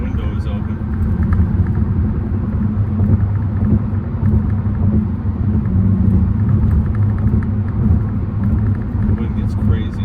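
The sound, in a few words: wind rushing through open car window while driving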